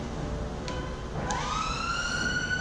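An ambulance siren wails in a game scene, its rising electronic tone sweeping up and holding steadily over a low rumbling background.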